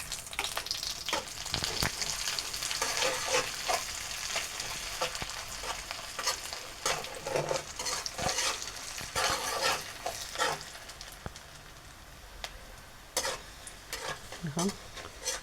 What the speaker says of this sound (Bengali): 2-4টে লং এবং দারুচিনি, এগুলো একসাথে ফ্রাই করে নেব